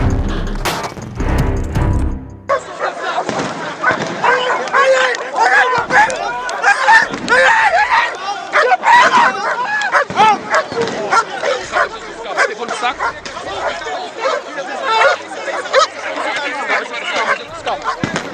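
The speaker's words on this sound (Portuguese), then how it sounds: "ele aí é atacado por um cão pitbull da Polícia Militar" A Military Police pitbull barks and yelps in sharp bursts while attacking a cameraman, close and loud amid shouting, agitated voices and crowd commotion throughout.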